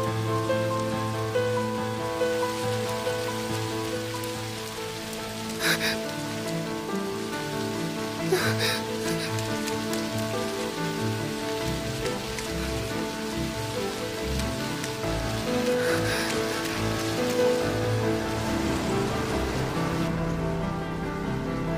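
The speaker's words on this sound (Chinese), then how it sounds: "下雨了" Steady rain falls in an outdoor street scene, a constant wash of patter that holds for over twenty seconds, with music playing underneath.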